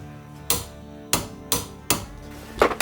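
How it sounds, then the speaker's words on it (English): Sharp ratcheting clicks come from a torque wrench tightening a new OEM nut on a Honda NSX steering hub against an aluminum bracket, with five distinct close, loud snaps spaced irregularly and no talking. "Now we torque it down to 36 foot-pounds."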